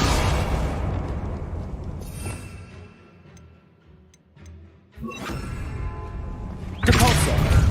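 A Confringo fire spell cast in Hogwarts Legacy, heard as sharp explosive bursts with crackling debris and a loud blast near the end, separated by a quieter stretch of faint ticking.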